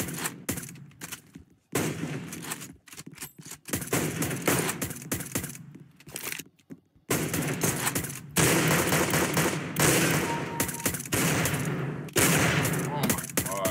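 Rapid bursts of CS:GO gunfire, loud and close, recurring with brief gaps in a tense match over steady game noise.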